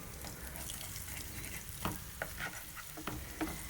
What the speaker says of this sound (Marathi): या माशांना आपल्याला मंद आचेवरच तळून घ्यायचं आहे